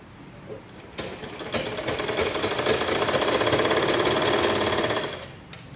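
An electric sewing machine stitches a cross patti blouse in one fast, loud, rapid run that speeds up, holds for several seconds, then stops, with no talk over it.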